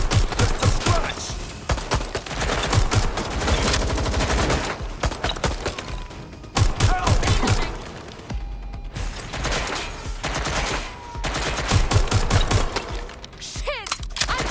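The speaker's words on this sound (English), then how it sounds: "I'm getting shot at here!" Heavy gunfire in Watch Dogs: Legion, loud bursts of rapid automatic shots in long volleys broken by short pauses, close and intense throughout.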